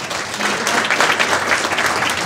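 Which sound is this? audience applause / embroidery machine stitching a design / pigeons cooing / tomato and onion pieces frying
audience applause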